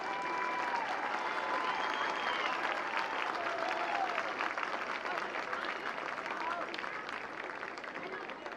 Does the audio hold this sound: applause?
yes